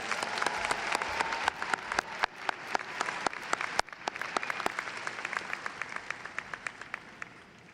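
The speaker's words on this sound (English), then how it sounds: "Let's give one more round of applause for our amazing arts programs." An audience at a Palisades High School graduation applauds the arts programs, a steady round of dense clapping from a crowd that slowly tapers off.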